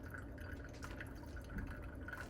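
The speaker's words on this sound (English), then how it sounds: "But this is gonna be a slow pour." A slow, thin stream of water is poured over ground coffee in a Hario V60 pour-over dripper, a faint steady trickling with light dripping, close and continuous.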